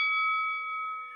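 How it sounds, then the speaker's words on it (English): A bell is struck once on a talk show to open a debate segment, giving a single clear, sustained ring with steady overtones that fades slightly over about a second, with no voices. "Sound the bell."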